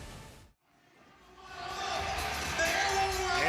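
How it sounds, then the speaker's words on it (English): A crowd cheers inside a wrestling event arena, rising from a hush into a loud, sustained roar of shouts and whoops, with a voice speaking over it. "The crowd is going wild"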